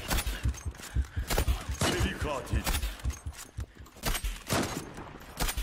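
Gunfire in the Zula online shooter game: rapid bursts of close shots and impacts, with someone speaking excitedly throughout.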